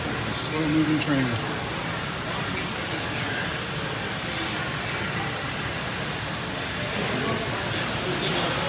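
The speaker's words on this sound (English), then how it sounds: "It's a slow-moving train." A slow model train at a York train show rumbles past with a steady low roar and faint squeals, continuous and moderately loud throughout.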